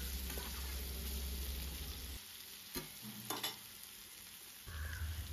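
Pumpkin pieces frying in a pan, a soft steady sizzle with occasional stirring scrapes and clicks as the pieces are moved.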